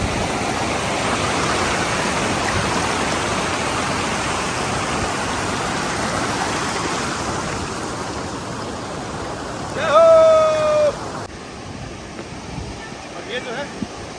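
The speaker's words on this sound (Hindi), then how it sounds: "ये जो है नदी के तट पे पहुंच चुके हैं हम" A mountain river near its source in the Valley of Flowers, Uttarakhand, rushes in a steady broadband wash throughout, with a brief whistle-like tone breaking through near the end.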